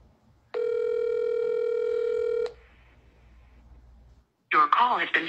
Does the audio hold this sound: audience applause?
no